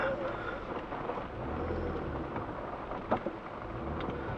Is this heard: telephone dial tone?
no